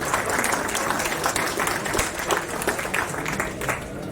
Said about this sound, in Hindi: इस 34 साल के करियर के लिए एक बार जोरदार तालियां।